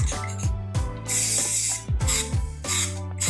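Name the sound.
spraying Rust-Oleum primer onto vases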